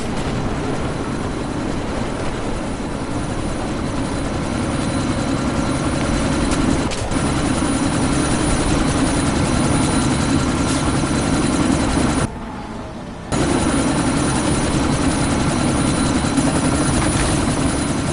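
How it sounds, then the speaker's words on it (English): A helicopter in the video game Deus Ex: Mankind Divided gives a loud, steady rotor and engine drone throughout, with a brief dip in the middle before the same thudding roar resumes. "chopper's been grounded"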